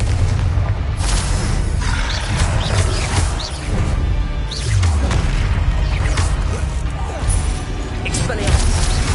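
Blasting spells exploding in Hogwarts Legacy, a dense run of heavy booms and crashing impacts with whooshes over a constant low rumble of combat, loud and close, with talk mixed in.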